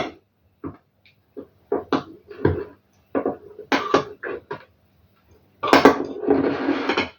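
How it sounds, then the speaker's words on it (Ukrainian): A spoon scrapes and clacks against a bowl while a salad is stirred with mayonnaise, in short separate knocks followed by a longer burst of steady, wet stirring near the end. "все ретельно вимішую"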